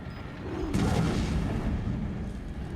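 A single heavy bomb explosion from a video game, a sudden broad boom that lingers as a rumbling roar for a couple of seconds, loud and close.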